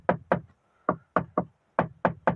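Eight sharp knocks on the hard plastic door trim of a 2022 VW Nivus Highline, dry and close, given in quick pairs and small groups with short pauses between, no voices.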